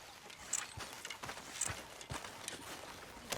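Horse hooves clip-clopping in a steady trot in the video game Red Dead Redemption 2, several sharp hits per second, fairly close and clear with no talking.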